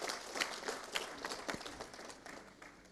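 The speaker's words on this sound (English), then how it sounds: "Let's give a big round of applause to all the panelists." A conference audience applauds the panelists with moderate, fairly steady clapping from a sizable crowd that gradually softens toward the end.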